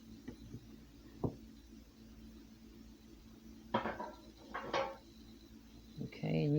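Sweet potato bars slid out of a baking pan onto a cutting board, giving a few soft scraping and knocking sounds of pan and board with a sharp clink in between.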